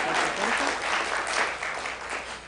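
Steady applause from an audience fills the clip, dense clapping that rises and falls slightly, with a faint voice underneath.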